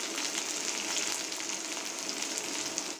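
A little chopped onion hitting hot oil in an iron wok, a bright, dense sizzle that crackles steadily up close and cuts off abruptly at the end.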